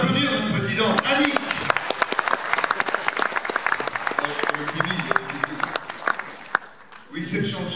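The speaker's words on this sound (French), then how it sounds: "Vous pouvez l'applaudir, votre président." An audience bursts into applause for a club president, a burst of dense clapping with sharp individual claps that thins out toward the end, with voices talking at the start and close.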